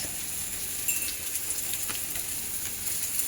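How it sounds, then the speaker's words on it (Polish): A steady, close sizzle of food frying in a pan, with a soft crackle and a few light scraping stirs, no talking. "A tutaj smażymy"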